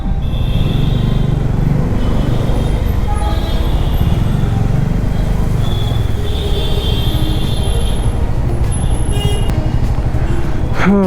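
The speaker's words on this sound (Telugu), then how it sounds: "Silk board junction. ఎప్పుడు వచ్చినా ట్రాఫిక్ ఉంటుంది ఇక్కడ." Dense traffic at Silk Board junction in Bangalore: a steady, loud rumble of cars, buses and trucks, with scattered horn toots cutting through near and far.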